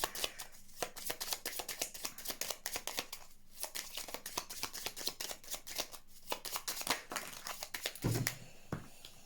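Tarot cards being shuffled by hand, a dense run of rapid riffling and flicking card sounds that continues steadily, close and fairly loud, with brief pauses between bursts and no talking.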